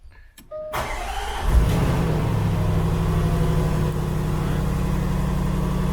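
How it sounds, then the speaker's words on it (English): A Range Rover Sport L494 engine cranks and catches, then settles into a steady, close idle that hums on for several seconds. "Start the car and put the aircon on."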